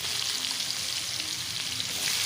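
Onions fry in oil for mutton kosha, giving a dense, steady sizzle that stays constant and close throughout, with no voices.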